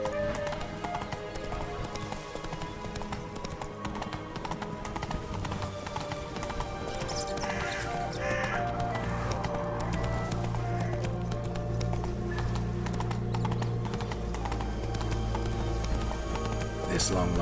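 The horse Roach's hooves gallop in a fast, continuous clip-clop through the game world of The Witcher 3, with a voice speaking over the steady hoofbeats.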